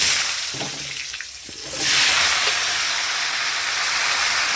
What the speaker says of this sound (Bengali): জিরে তেজপাতা ফোড়ন দিয়ে বসিয়ে দিলাম, এই আলুটা দিয়ে